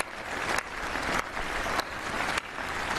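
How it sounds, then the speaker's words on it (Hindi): Audience applause honoring India's athletes at an Independence Day ceremony, steady dense clapping from a crowd that swells in short waves, loud and continuous with no voices over it. "हमारे खिलाड़ियों के सम्मान में आइए कुछ पल तालियां बजा करके उनका सम्मान करें"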